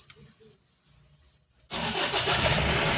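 A Mahindra Bolero with a check engine and immobilizer fault, heard with quiet clicks and faint starter noise before the engine catches abruptly and settles into a loud, steady running rumble up close.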